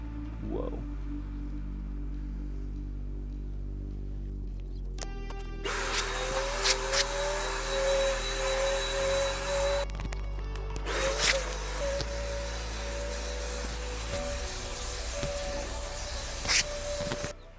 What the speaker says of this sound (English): I'm gonna spray some Zinsser Bin on this.